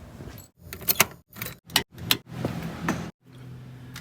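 A bunch of keys jangling close by, fetched before working on a Kawasaki KLX 300R dirt bike, with several bright metallic clinks and rattles in short bursts separated by brief silences.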